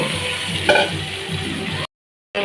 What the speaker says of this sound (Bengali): এবার মাংসটা দিয়ে দেবো ম্যাগিনেট করাটা